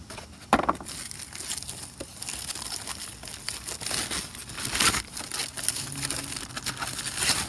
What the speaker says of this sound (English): It's time to unwrap this and take the PS3 out.